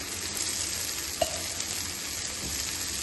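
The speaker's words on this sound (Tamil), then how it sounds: "இது நல்லா திருப்பி போட்டு ரோஸ்ட் பண்ணி எடுக்கணும்" Chettinad kara kuzhi paniyaram sizzling in its pan as the pieces are turned and roasted, a steady close hiss with a small clink partway through and no voices.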